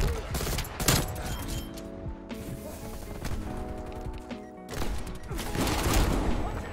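A Street Sweeper shotgun fires in Call of Duty Cold War: loud, rapid bursts of shots and impact crashes in an online match, with brief lulls between volleys and game music or tones underneath.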